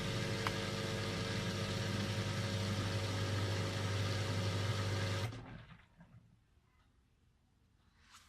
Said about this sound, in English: Now the motor should have started.